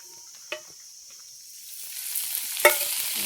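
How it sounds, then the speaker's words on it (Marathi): Garlic and cumin sauté in oil in a pan for green tomato chutney, with a soft sizzle building gradually and a couple of sharp stirring scrapes against the pan, close and without talk. "थोडंसं गरम होईल आणि ह्याबरोबर आपल्याला परतून घ्यायचं."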